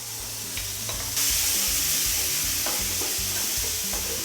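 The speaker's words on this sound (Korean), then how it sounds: "해산물이 거의 다 익으면 준비해놨던 토마토 소스를 넣어주세요." Seafood cooking in a pan as tomato sauce is added for a seafood spaghetti, a close steady sizzle that grows louder and fuller partway through, with soft scraping and stirring knocks and no voices.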